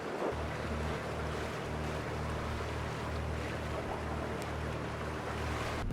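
A sailboat motors slowly through open sea off Cape York, Australia, with a steady low engine drone, water rushing past the hull and wind noise on the microphone, all continuous and unbroken, without voices.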